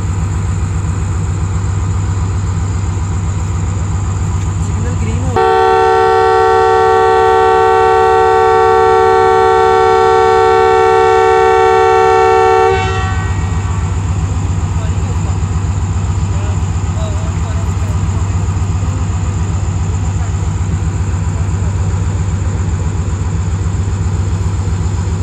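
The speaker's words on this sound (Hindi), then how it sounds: "अब अवाम express ready to depart from Multan cantt." Awam Express train departing Multan Cantt at night, a loud steady locomotive horn blast lasting several seconds over a constant idling diesel engine rumble.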